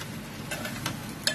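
Flattened rice (poha) stirred in a medium-sized bowl, heard as a few soft, quick scraping and clicking strokes, faint and close, with no talking.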